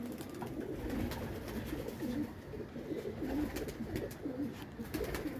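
Soft, repeated pigeon cooing in low throaty phrases, continuing steadily over a faint background hiss.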